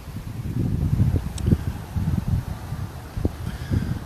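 Wind gusts buffet the microphone at an outdoor resort construction site, a steady low rumbling roar with uneven surges throughout and a few brief knocks.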